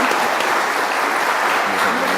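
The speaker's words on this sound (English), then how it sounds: "Can I get a round of applause for our Paralympic heroes?" A conference audience at a Spinal Injuries Ireland event applauds Paralympic athletes, with dense, steady clapping filling the whole short stretch.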